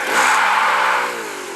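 A car engine in a car parking video game starts and revs in one loud, smooth whir that holds briefly and then eases off.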